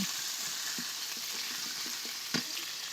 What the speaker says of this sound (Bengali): এর ভিতরেই আমি আজকে টমেটো কুচিটা দিয়েও কিছু সময় কষিয়ে নেব